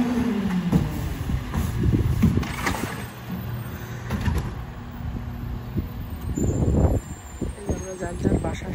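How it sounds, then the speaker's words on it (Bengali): A garbage truck arriving on a residential street, its engine rumbling close by with bursts of air-brake hiss and mechanical clanks, under someone talking. "এখানে যে গার্বেজের গাড়ি চলে আসছে"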